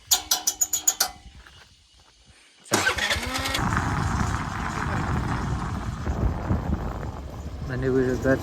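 A Suzuki Access 125 scooter engine: a burst of quick starter pulses, then a short silence before the engine fires and settles into a steady running drone, with a voice heard near the start.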